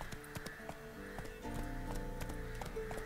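Horse hooves clip-clopping at a quick trot with a brief neigh in a video game, near and moderately loud over a faint musical background.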